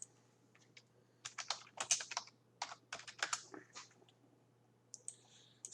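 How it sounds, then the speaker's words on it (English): Computer keyboard typing in bursts of quick clicking keystrokes, close and crisp over a low steady hum, with short pauses between clusters of keys and no voices. "Basically what I did is I just typed in"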